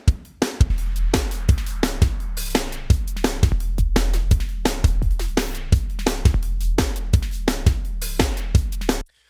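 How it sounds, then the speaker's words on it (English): A steady drum groove with punchy, booming electronic kicks layered under sharper acoustic drum hits, repeating in a driving rhythm with no voices. "the electronic drums that come in first thing"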